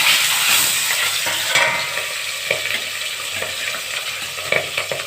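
Fish frying in hot oil in a home kitchen for a spicy fish curry, giving a loud, steady sizzle with scattered sharp crackles and pops throughout, and no voices.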